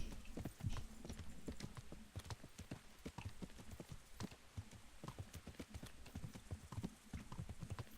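In Kingdom Come: Deliverance, hooves of horses walking produce a constant stream of soft, overlapping clip-clops, steady and near, lasting the whole stretch with no voices.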